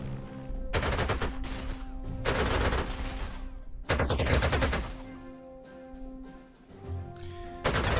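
Fighter planes strafe with machine guns in the Panzer Corps 2 war game: several loud, rapid bursts of automatic fire, each a second or so long, separated by short pauses.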